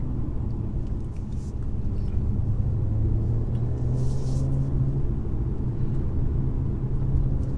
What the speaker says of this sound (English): it's really nice when you come into a roundabout and the car's just flipping its way through the gears